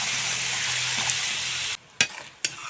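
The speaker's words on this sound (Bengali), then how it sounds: "নেড়ে চেড়ে দিয়ে দেবো নারকেলের জল।" Ground spices frying and being stirred in a pan give a loud, steady sizzle, which cuts off abruptly, followed by two short splashy bursts as coconut water is poured in.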